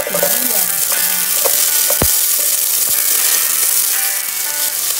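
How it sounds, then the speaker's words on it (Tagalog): Garlic sautéing in a pan gives a loud, close, continuous sizzle, broken by a couple of sharp clacks from a utensil stirring against the pan. "So as usual, mag-gisa ako ng bawang."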